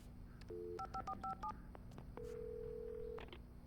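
A telephone is dialed in the Alan Wake video game: a few quick keypad tones, then a steady one-second tone, heard clearly over a quiet background hum.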